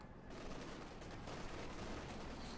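Distant, continuous battlefield fire in Company of Heroes 2, with bazooka and anti-tank rifle grenade shots blending into a steady rumble of gunfire, faint and unbroken.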